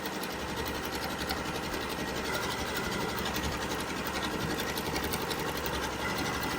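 A Janome Continental M6 sewing and quilting machine stitching with a floating foot, a fast continuous mechanical whir and needle patter, loud, close and steady throughout with no talk.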